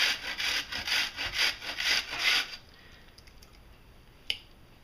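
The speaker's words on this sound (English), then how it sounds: "I use the big one and I just grate the onion" An onion rubbed down the large holes of a box grater, giving a steady run of rhythmic rasping strokes for about two and a half seconds, then near quiet apart from one small tap.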